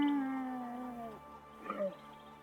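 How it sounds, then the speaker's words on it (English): Camels in the post-apocalyptic game Broken Roads, a single low, drawn-out groaning bellow that slides downward, followed by a short wavering grunt, close and fairly quiet. "And they make camel noises."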